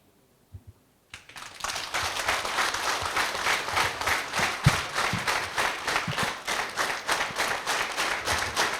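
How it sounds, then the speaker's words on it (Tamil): An audience claps at a closing ceremony in Thirupur: after a couple of soft taps, dense sustained applause rises and keeps going with a rhythmic pulse, loud and close. "கைத்தட்டல் இன்னும் கொஞ்சம் பலமா இருக்கட்டும்ங்க"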